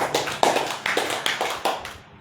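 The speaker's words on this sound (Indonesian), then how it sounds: "Tepuk tangan." Audience clapping in time during an Indonesian religious lecture on dhikr, a quick, steady run of sharp hand claps that thins out toward the end.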